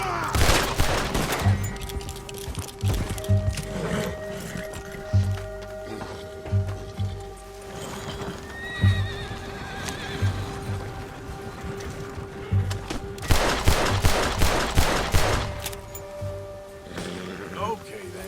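Repeated volleys of gunfire in the Red Dead Redemption 2 video game, loud bursts separated by short gaps, with voices talking between and beneath the shots.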